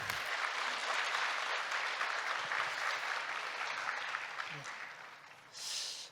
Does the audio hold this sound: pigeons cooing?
no